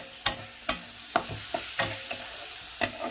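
A pan of spice paste for Bengali jackfruit and potato curry being stirred, with a soft continuous sizzle broken by several sharp spatula scrapes and clinks at irregular intervals, close and fairly quiet, no talking.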